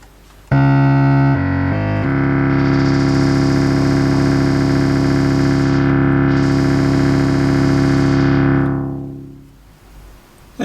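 A Behringer Pro 1 analog synthesizer sounds a few quick notes, then holds one loud, buzzy, distorted tone whose timbre sweeps and wobbles under modulation wheel control before fading away.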